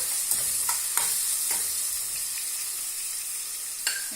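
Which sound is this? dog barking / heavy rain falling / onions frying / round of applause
onions frying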